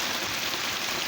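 Heavy monsoon rain pours onto a house in a dense, unbroken hiss, loud and close, with no voices.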